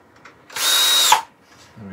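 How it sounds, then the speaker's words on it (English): Power drill boring a 6mm hole in wood with an ordinary twist bit during a Christmas nutcracker woodturning build, a steady whine of about three-quarters of a second that starts and stops abruptly, with quiet background sounds around it. "I'm going to use a normal twist drill at 6mm"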